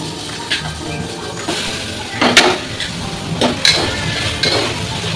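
Tomatoes and onions sauté in a pan for sambar, a steady soft sizzle broken by several sharp clinks of a metal spoon against the pan as the mixture is stirred.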